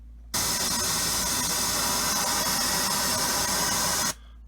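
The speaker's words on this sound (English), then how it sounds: "The next module on the audio list after the all-pass filter is noise." Loud, steady white noise from the noise module of an Empress ZOIA effects pedal starts abruptly, holds as an even broadband hiss for about four seconds, then cuts off cleanly.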